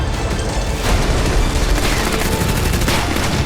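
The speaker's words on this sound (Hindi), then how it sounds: "रोबोटाइन के बाहरी जंगलों में यूक्रेन और रूस के जवान आमने सामने आ चुके हैं, एक दूसरे पर गोलीबारी कर रहे हैं" Gunfire rattles steadily through a battle between Ukrainian and Russian soldiers in the woods outside Robotyne, a dense, loud wash of overlapping shots and bursts with no pauses.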